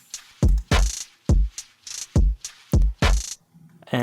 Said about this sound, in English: So here's the kick.